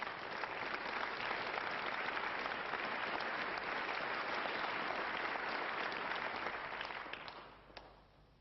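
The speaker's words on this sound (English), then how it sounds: "The crowd applauding there, trying to urge John on." Snooker audience at the 1996 UK Championship final giving steady, dense applause that holds at an even level for about seven seconds before tapering off at the end.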